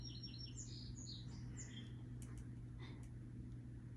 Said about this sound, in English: Hopefully that bird got picked up on the video.